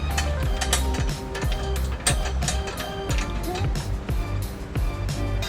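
A ratchet wrench rapidly clicks as it tightens trailer hitch bolts to the frame of a 2000 Honda Odyssey, giving dense, continuous metallic pawl ticks with occasional creaks, close and loud, while someone talks.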